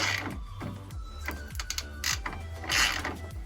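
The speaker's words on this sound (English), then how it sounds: "The thread forms as I'm screwing it in." Ratchet wrench clicking steadily in quick bursts as a thread-forming screw is driven into an uncut hole in a Ford F150 part, loud and close with no talk.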